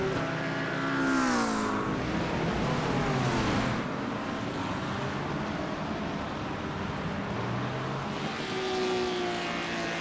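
GT3 race cars lap the Red Bull Ring in a racing sim, engines rising and falling through gear changes. One car is loud and near, with others passing, and no talk over the engine noise.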